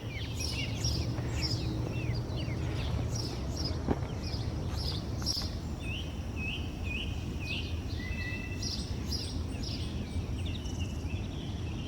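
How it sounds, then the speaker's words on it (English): Morning birdsong in Iroquois Park on a hiking trail: repeated high chirps and short trills scattered over a steady outdoor hiss and low rumble, moderately distant with no talking. "the birds are singing."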